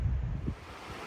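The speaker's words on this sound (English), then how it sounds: "Lots of little streams to cross like this" A small mountain stream flows over rocks beside a hiking trail in the High Uintas, giving a steady, close wash of water noise with no voices.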